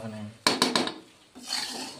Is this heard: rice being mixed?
yes